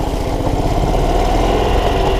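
A Club Car golf cart's small gas engine, recently brought back from a no-start with a cleaned carburetor, runs steadily at a loud, close idle with a rough low-end chug and no talking.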